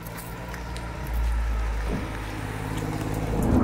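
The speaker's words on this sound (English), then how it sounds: "It's loud. Yeah. And that's the exhaust." Exhaust note of the Erre Erre Fuoriserie Giulia Quadrifoglio retromod on the road, a steady loud low rumble that swells around a second in, dips, then builds again toward the end.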